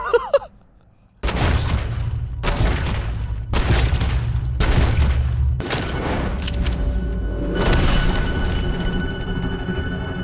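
Gunfire from a Red Dead Redemption 2 duel bursts out after a brief quiet: a string of loud, booming shots in rapid sequence, each followed by a rolling echo, continuing close and heavy throughout.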